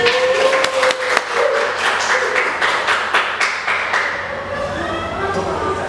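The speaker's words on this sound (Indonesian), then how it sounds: "tepuk tangan buat teman-teman" Scattered hand claps from students in a vocational school classroom in Semarang, a dozen or so uneven slaps close by over a steady room murmur, thinning out toward the end.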